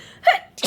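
A single close, sharp human sneeze with a quick gasping intake before it, abrupt and loud.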